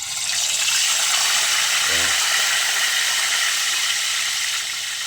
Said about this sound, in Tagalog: piprito ko muna yung bangus